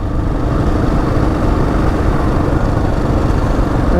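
A Husqvarna 701 motorcycle rides steadily through sand, its engine a continuous loud, rough drone with wind noise and no breaks.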